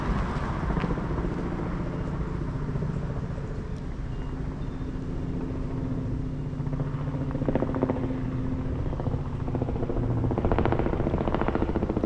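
Steady low rotor thrum of a news helicopter passing overhead, continuous and fairly loud throughout with no voices.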